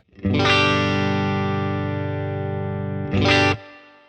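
An electric guitar runs through a Red Squeeze compression pedal, modelled on a Line 6 HX Effects unit, giving one sustained, shimmering chord and then a second shorter strum that rings out, with no talk.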